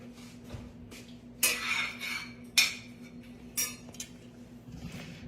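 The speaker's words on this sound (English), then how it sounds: "I'm just keeping them stirred" Pecans toasting in a pan get stirred with a metal utensil, producing a few faint, scattered scrapes and clinks against the pan over a low steady hum.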